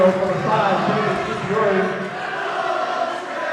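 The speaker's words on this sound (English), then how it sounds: "the crowd not too happy with that" Crowd noise at a 2004 high school girls' basketball game, Saddle Brook Lady Falcons against Pascak Hills, a steady loud murmur of displeasure from the stands after an offensive foul call, with voices talking throughout.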